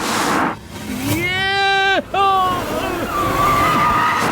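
A car speeds and skids in a Bollywood film scene, its long wavering tire squeal rising, breaking off briefly, then trailing away over steady engine and road noise.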